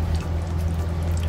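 Dirty engine oil drains steadily from a 2020 Chevrolet S10 diesel into a pan, a continuous close pouring and trickling sound with a low hum underneath.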